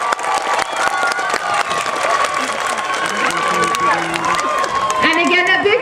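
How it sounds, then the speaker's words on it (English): An audience at a school groundbreaking ceremony applauds and cheers outdoors, with steady clapping mixed with crowd chatter and a few whoops, people talking throughout. "Let's give everybody a big round of applause."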